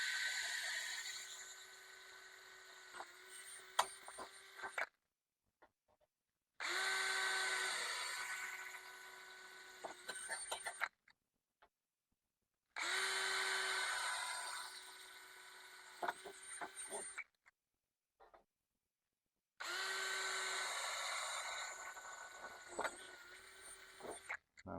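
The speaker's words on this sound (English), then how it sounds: "So got my 1/8 inch drill bit, all my marks where they want to be. I'll just go and kind of pre-drill them all out." A power drill with a 1/8 inch bit pre-drills holes for a swimming pool skimmer replacement, running in four sustained whining bursts of several seconds each, separated by short silences.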